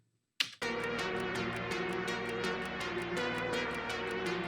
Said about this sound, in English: I added in a clock sound in the beginning and panned it left and right